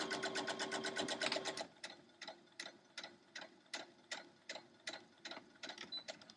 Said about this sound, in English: I'm just going to lock that stitch down.